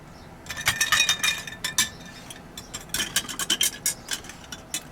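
Ice and glass clink brightly as a drink is stirred, a quick irregular run of light tinkling taps in two bursts over a quiet room, with no talking.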